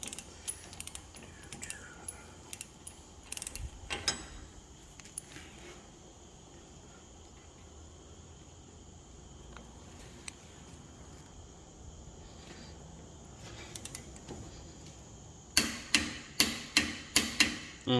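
A torque wrench ratchets while tightening the front spindle nut on a 1997 Jeep Grand Cherokee 4x4. Scattered metallic clicks and taps are heard close by, followed by a quick run of sharp, loud ratchet clicks near the end.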